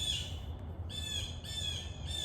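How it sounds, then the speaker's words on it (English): Birds calling and singing in the trees outdoors, several clear repeated squawking calls up close over a steady ambient background. "in concert with the birds that sing up in the trees"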